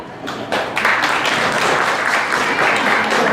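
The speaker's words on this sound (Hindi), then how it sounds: "तालियां बजनी चाहिए।" Audience at a children's Independence Day culture event claps together, a dense steady applause swelling after a quiet start and staying loud.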